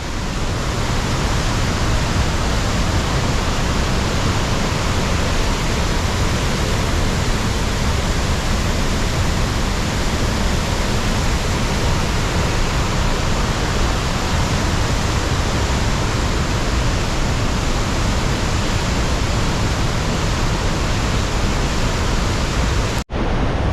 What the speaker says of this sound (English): River is so high.